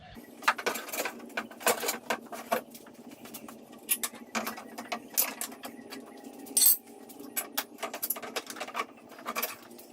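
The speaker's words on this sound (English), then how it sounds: "Next thing we need to remove is these bolts right here holding these supports." Ratchet wrench removing support bolts on a 1995 EZGO golf cart, giving repeated clicking and clinking bursts in uneven runs with pauses, close by and fairly quiet.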